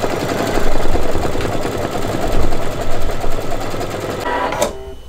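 Single-needle embroidery machine stitching with metallic thread runs with a steady, close mechanical chatter and rhythmic pulses, then stops abruptly near the end.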